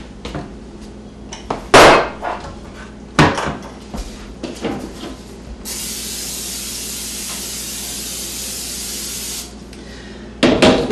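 Cooking spray hisses steadily onto a 12 by 11 by 1 inch baking pan for cornbread, one continuous burst lasting a few seconds, close and clear, between sharper knocks of the can and pan being handled.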